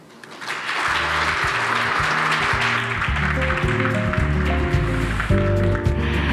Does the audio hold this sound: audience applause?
yes